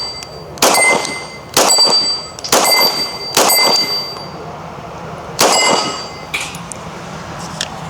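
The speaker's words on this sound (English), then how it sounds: "I be having fun shooting this thing all day from 25 yards to 8-inch gong." Loud metallic clangs as bullets strike an 8-inch steel gong at 25 yards, six ringing hits spaced about a second apart with a gap before the last, each leaving a bright shimmering decay.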